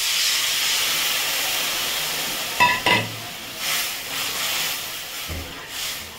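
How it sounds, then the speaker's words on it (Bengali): Mustard water poured into a hot pan of spiced oil with red chilli powder and salt, giving a steady steaming hiss and sizzle with a few brief clattering knocks, close and moderately loud. "এখন সেই সর্ষের জলটা দিয়ে দিচ্ছি"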